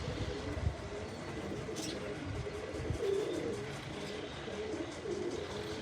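Pigeons coo softly and repeatedly at a low pitch, fairly faint, over a steady hiss of ambient noise, with no talking.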